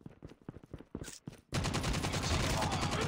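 Automatic gunfire in Call of Duty Mobile multiplayer: a few scattered shots give way to a dense, continuous burst of rapid fire that holds steady to the end.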